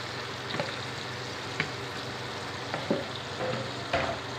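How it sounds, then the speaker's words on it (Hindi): Marinated chicken is stirred into a frying pan for achaar gosht, a steady close sizzle with scattered spoon scrapes and clinks every second or so, no talking. "अब हम ऐड करेंगे चिकन, जो हमने 30 मिनट के लिए रेस्ट पे रखा था, वो इसमें ऐड करेंगे। और अच्छे से मिक्स करेंगे।"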